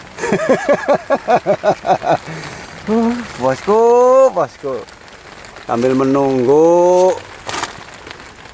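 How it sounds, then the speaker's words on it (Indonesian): Rain patters steadily on the roof of a small hut during a storm, a soft continuous hiss running under a voice that talks and sings over it. "Nah itu bunyi rintikan hujannya tuh di gentengnya tuh."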